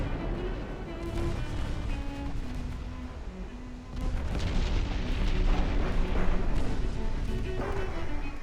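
Battle cruiser naval guns in Ultimate Admiral Dreadnoughts fire in heavy, rumbling booms over a constant droning background, the roar swelling louder partway through.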